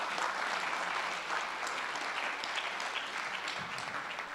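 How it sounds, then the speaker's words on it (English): Audience applause after an auction sale at a security conference, a steady dense wash of clapping that holds evenly for the whole stretch. "Give him a round of applause."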